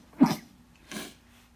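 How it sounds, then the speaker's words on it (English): A teacher sneezes twice during a math lesson, a sharp close burst followed by a softer second one about three-quarters of a second later, over a steady low hum. "I'm sneezing"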